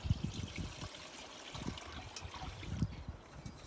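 Cooled vinegar, sugar and salt marinade is poured over herring, giving a soft, close trickle and splash that comes in a few quiet bursts.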